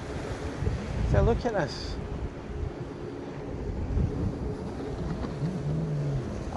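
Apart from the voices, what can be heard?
wind blowing on a beach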